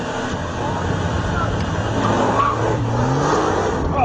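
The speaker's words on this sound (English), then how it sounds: "First to line up are the 911 and GT-R, and I'm in the Nissan." A Nissan GT-R and a Porsche 911 launch side by side in a standing-kilometre drag race, heard from inside the Nissan as a steady, loud engine roar and drivetrain rumble throughout.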